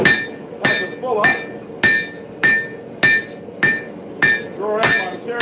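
A hammer edge, used as a fuller, strikes hot steel on an anvil to draw out the socket of a forged broadhead. Nine evenly spaced ringing blows land close and loud, each with a bright metallic ring.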